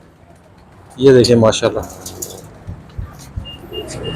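Pigeon cooing in a loft, a few soft low coos heard close by beneath someone speaking, with a brief chirp near the end.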